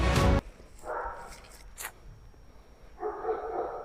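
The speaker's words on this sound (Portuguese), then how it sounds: "É o cachorro latindo." A couple of short dog barks sound at a moderate distance, separated by a quiet pause, with a brief rustle at the start.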